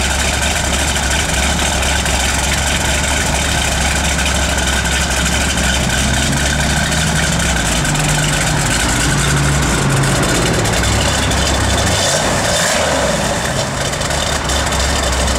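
A 1971 Dodge Challenger convertible's 340 V8 idles steadily and loudly for the whole stretch, a deep continuous rumble with a slight lope and no talking.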